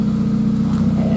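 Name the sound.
2000 GMC Sonoma 2.2 with Magnaflow dual exhaust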